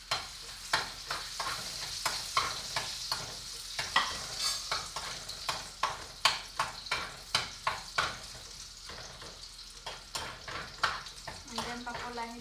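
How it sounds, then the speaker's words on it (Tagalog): Garlic sautés in a pan with a constant sizzle, while a utensil stirs and scrapes against the pan in a steady rhythm of close clicks. "igigisa na po natin yung ating bawang."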